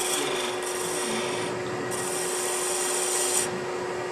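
A hand tool rasping and rubbing against wood while shaping and hollowing the side of a wooden hot air balloon ornament, a steady close scraping texture with a faint constant hum underneath.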